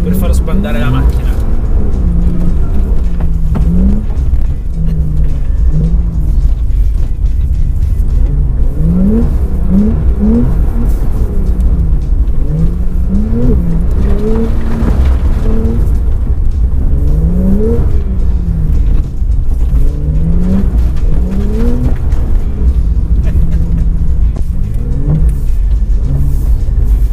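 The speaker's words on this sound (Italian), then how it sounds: "In questo momento c'è tanto di quel ghiaccio che basta dare un colpetto per far sbandare la macchina." A Porsche 991 Carrera 4 GTS drifts on an icy track, its engine rising and falling in repeated revving swells over a constant rumble, with someone talking over the car throughout.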